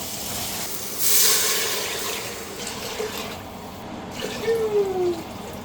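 Water is poured into a cooking pot for fish sinigang, a steady splashing stream with a rising gurgling tone near the end as the pot fills, close and fairly loud.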